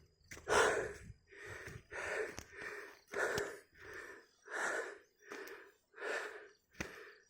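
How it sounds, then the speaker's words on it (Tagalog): Heavy, close breathing from someone hiking up a steep trail, with eight or nine loud, rhythmic wheezing breaths spaced about a second apart. "Sobrang hingal ko yung mga matatarik na ganito."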